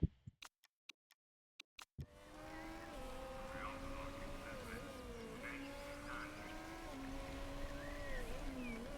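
An aircraft engine at an active airport in the Motorsport Manager racing game drones steadily with a wavering propeller-like pitch after a few short clicks, heard fairly faint and alone.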